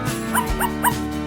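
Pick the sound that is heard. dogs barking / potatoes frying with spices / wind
dogs barking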